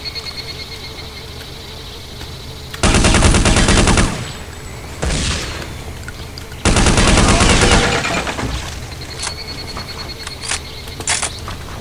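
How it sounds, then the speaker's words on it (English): Two long bursts of rapid submachine gun fire from Counter-Strike: Condition Zero Deleted Scenes, loud and close, each lasting about a second, with a few shorter shots and clicks between and after them. "Now I got a SMG too"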